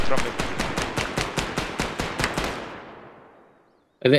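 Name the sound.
gunfire in ArmA 3 video game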